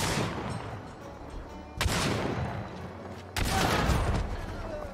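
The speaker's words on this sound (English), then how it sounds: "I shot him 3 times with my shotgun" Three loud shotgun blasts from Hunt: Showdown, evenly spaced about a second and a half apart, each a sharp close crack trailing into a long reverberant tail.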